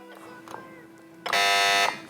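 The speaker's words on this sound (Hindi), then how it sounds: "दोनों बजर प्रॉपर काम कर रही है" A quiz game buzzer on a televised Iftar quiz show is tested, sounding as one loud, sustained electronic buzz lasting about half a second after a quieter stretch.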